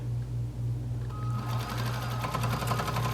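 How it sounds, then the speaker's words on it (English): A sewing machine top stitches along Velcro and down a fabric strap for a baby toy, its steady motor hum running close and continuous, with the stitching rhythm growing brighter partway through. "So you just start sewing along the Velcro and then continuing to top stitch all the way down the strap."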